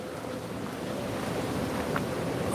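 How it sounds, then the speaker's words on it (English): Strong night wind roars steadily across an outdoor spot by the water during a carp fishing session, a constant loud rushing noise with no talking. "Whoo, she's getting windy."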